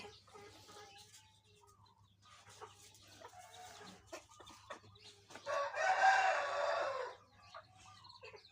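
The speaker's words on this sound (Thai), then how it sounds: "ไก่กับพ่อไก่" Hens and a rooster cluck and crow on a Thai farm, with a loud, close crowing burst near the end above a steady low hum and scattered softer clucks.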